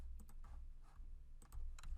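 Keys clack quietly on a computer keyboard during a Microsoft Access macro shortcut, a few short scattered presses close by with no talking.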